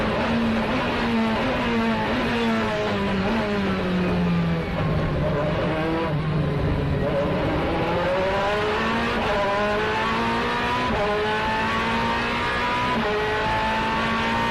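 GT race cars, including GT2-class machines, in the 2008 FIA GT round at Monza circuit: several engines roar continuously and loudly, their pitch climbing and dropping through gear changes as the cars stream past.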